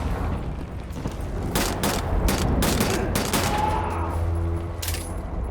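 Gunfire in a shooter video game, a handful of loud sharp shots fired in quick bursts over a steady game background hum.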